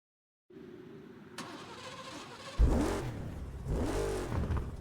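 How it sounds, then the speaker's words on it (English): A car engine starting in the Burnout Paradise video game: a low idle hum, then a loud ignition burst and two rising revs that settle back, close and alone. "Hold the accelerator to fire up the engine."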